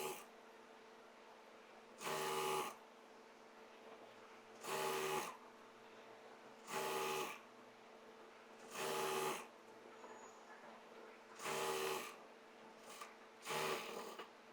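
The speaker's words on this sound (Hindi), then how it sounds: "फैब्रिक को क्लीन करते हुए इलास्टिक के ऊपर सिलाई लगा देंगे।" A sewing machine runs over elastic on plazo fabric, regular bursts of whirring stitching at a steady rhythm with short pauses between them, close and fairly quiet with a faint hum underneath.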